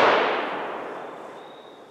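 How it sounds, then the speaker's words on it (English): A single gunshot fired through a pillow used as a makeshift suppressor, one sharp loud burst at the start that decays into a long fading rumble and hiss. "does shooting through a pillow, can you actually use it as a suppressor?"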